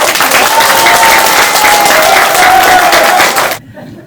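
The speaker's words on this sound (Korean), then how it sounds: "박수 한번 치고" Loud, dense applause from an audience at a South Korean political rally launching an election campaign, steady for about three and a half seconds before stopping abruptly, with faint crowd murmur and a voice in the background.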